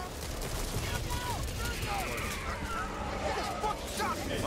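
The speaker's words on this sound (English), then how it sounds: "we have a minigun on it" Dense rapid gunfire from a minigun rattles continuously in the Back 4 Blood video game, layered with chaotic battle noise and a voice speaking over it.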